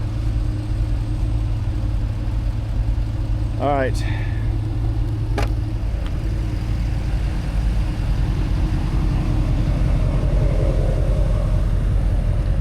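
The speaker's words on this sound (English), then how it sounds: "Oh, these trucks are so noisy." Trucks idle noisily at a fuel stop in Alaska in -35 degree cold, a steady loud engine drone that runs the whole time, with a short stretch of talk over it.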